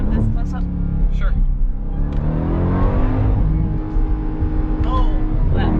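A 2021 Dodge Durango SRT Hellcat engine revs up hard and holds near its rev limiter, a loud, sustained roar with rising pitch heard from inside the vehicle as people talk over it.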